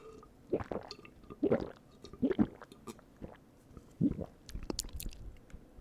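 Close-up chewing of assorted cookies in an ASMR eating session: moist bites and soft crunching come in separate bursts, four or five across the stretch, loud and near with no talk.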